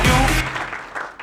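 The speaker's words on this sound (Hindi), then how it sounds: "जोरदार तालियां सर के लिए" An audience bursts into brief applause for a speaker, a loud initial burst of clapping that quickly thins out over about a second.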